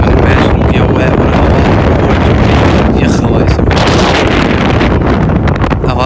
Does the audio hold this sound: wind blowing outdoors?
yes